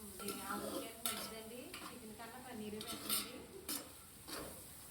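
Shahi jeera and tomato pieces go into a frying pan for paneer biryani: quiet sizzling, with a utensil scraping and clinking against the pan several times and a faint voice in the background.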